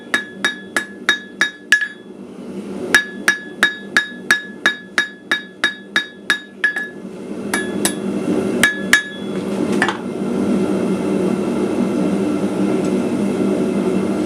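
Hammer blows ring out on an anvil while shaping a holly and berry piece, a fast even run of about a dozen sharp metallic strikes, then a few scattered hits before a steady low rumble takes over.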